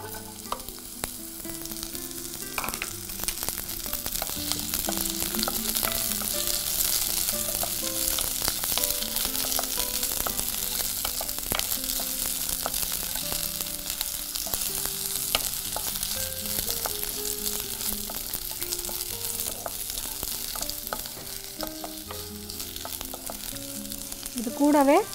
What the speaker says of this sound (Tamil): நல்லெண்ணெய் சூடானவுடனே இந்த நறுக்கி வச்சுருக்க பிரண்டையை அதோடு சேர்த்துக்கோங்க.